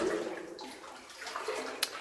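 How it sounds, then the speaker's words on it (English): Runoff water trickles and splashes inside an old Welsh lead mine level, a close, steady gurgling flow with one brief sharper splash near the end. "A runoff."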